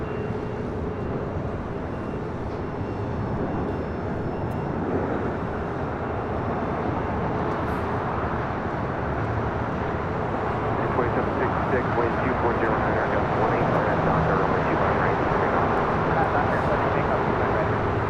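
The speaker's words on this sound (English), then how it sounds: "Is that the other C-17?" A C-17 military transport jet roars at LAX, a broad, steady rumble that swells slightly toward the end and sounds moderately distant. People talk over the engine noise.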